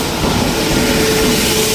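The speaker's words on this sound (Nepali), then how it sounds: "हाम्रो लोकमान्य तिलक एक्सप्रेस बल्ल आइपुग्यो।" The Lokmanya Tilak Express, an Indian passenger train, rolls into a station with a loud, steady, close rumble of wheels and carriages, with no voices.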